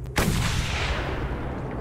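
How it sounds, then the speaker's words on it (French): A sudden loud explosion from the Mad Max video game hits at once and then trails off into a long, rumbling roar that fills the rest of the moment, with no talking over it. "Ça a explosé."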